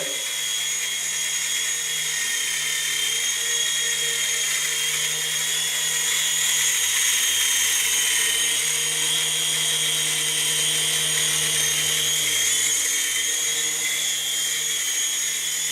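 A Jun Quan Toys F63028 Thunderbird three-channel infrared RC helicopter flies indoors with a steady, high, whining motor and rotor buzz that holds nearby at an even level throughout, with no talk.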